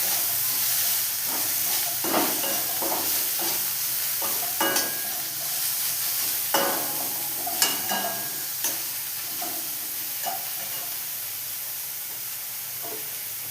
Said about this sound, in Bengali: কড়াইয়ের মধ্যে আদা রসুন আর পেঁয়াজ